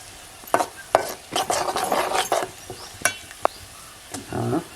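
Onion frying until reddish in a pan over a wood-fired stove, loud scraping stir strokes in quick bursts over a soft background sizzle.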